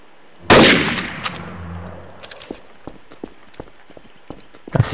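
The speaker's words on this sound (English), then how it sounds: "I see you're shooting your sniper there, Drag." A single loud, sharp sniper rifle shot in a video game, followed by a fading echo and a run of light, irregular footstep-like taps and thuds that continue quietly afterward, with no talking.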